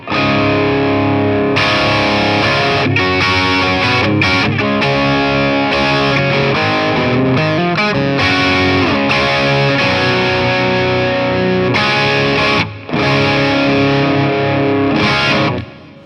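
Gibson Les Paul Standard Double Trouble electric guitar with Alnico 5 pickups, played loud with heavy distortion and effects, a dense run of driven chords and riffs with brief gaps near the end.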